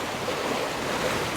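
Steady wind and the wash of waves around a sailboat running under reefed sails on flat water in gusty Caribbean conditions, a continuous close rush with no break.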